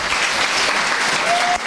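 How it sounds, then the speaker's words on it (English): A crowd at a Limerick community event bursts into thick, sustained applause for a local organisation, loud and even from start to finish. "A round of applause for Doras Luimní."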